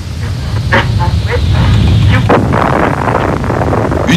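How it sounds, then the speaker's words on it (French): An atomic bomb test explosion: a loud, sustained deep rumble that rolls on without a break, with scattered sharp cracking bursts on top. "Mais l'explosion à laquelle vous allez assister, elle, est bien réelle."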